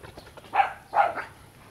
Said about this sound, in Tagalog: Tumatahol.